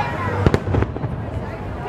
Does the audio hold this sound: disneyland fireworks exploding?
yes